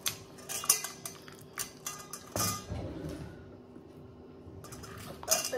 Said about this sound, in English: we're just going to mix the two of these together really well